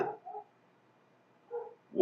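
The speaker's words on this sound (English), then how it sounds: "Dumb dog." A dog gives a few short, quiet barks spaced apart by silent gaps, heard alone without voices.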